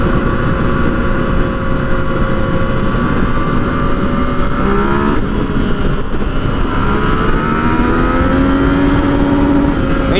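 Yamaha FZ09 motorcycle accelerating hard through the gears, a loud continuous engine roar with rising revs that drop at each shift, heard up close from the rider's position over steady wind noise.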